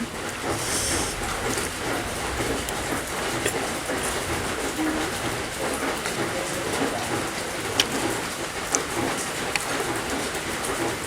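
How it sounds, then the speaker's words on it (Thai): Steady rain falls and patters on surfaces, a dense hiss with occasional louder drips, and no talking. "ฝนตก"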